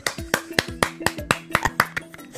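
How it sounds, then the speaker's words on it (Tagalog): Rhythmic hand claps, about a dozen sharp, evenly spaced strikes close to the mic, with a faint voice underneath. "Palakpak!"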